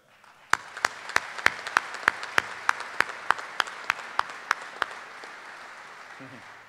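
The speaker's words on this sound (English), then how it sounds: "please join me in one last round of applause for our distinguished guests" An audience applauds at a military sword ceremony for Lieutenant General Stanley E. Clarke III. Sharp, evenly spaced claps ring out over a softer crowd wash and fade out after about five seconds.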